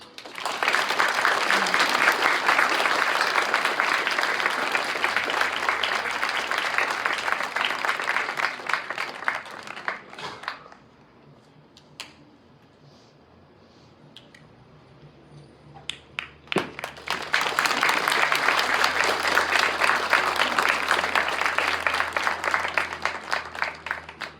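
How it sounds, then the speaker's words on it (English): Sustained applause from an audience at a high school 9/11 remembrance ceremony, a dense wash of clapping that drops to near quiet midway, then swells again just as strongly. "Please join me in giving my friend, Mike Trevel, a round of applause."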